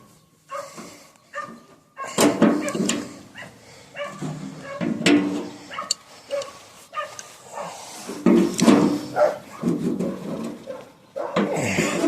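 A dog barks in bursts from a moderate distance on a rural property, the barks mixed with scraping and rubbing sounds of nearby work on an Oliver 70 tractor.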